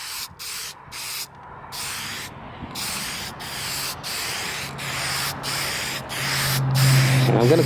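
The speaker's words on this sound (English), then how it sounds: "I'm just going to put a very light coat on, and I'm having to spray it very oddly" Spray paint hisses in short repeated bursts onto a plastic truck grill outdoors, with brief pauses between passes and wind rumbling low underneath throughout.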